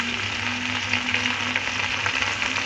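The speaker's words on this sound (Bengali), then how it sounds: "আর আলুটা 5 মিনিট আমি এরকম ভেজে নিয়েছি।" Potatoes frying in oil in a pan for a Bengali sajne data posto dish, a steady close sizzle with faint crackles running throughout, no talking.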